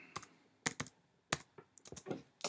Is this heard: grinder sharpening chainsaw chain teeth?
no